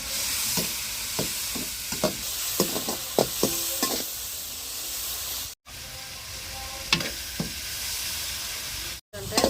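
A spoon stirs a simmering tomato mixture in a pan, scraping and knocking against the metal in a string of sharp taps over a soft, continuous sizzle, heard up close.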